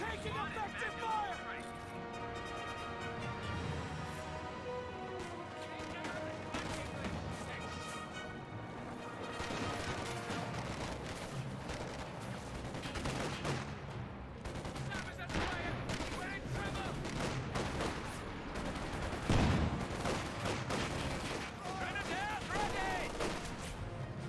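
Gunfire and machine gun bursts from the Company of Heroes 2 strategy game crackle and pop over a busy battle mix, fairly faint, with a voice talking over much of it.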